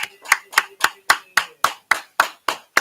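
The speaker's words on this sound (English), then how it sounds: "Clap it up, clap it up," Rhythmic group clapping at a Wednesday law class of the Israelite School of Universal Practical Knowledge in Houston, about ten sharp, evenly spaced claps in steady tempo, loud and close, with no talk over them.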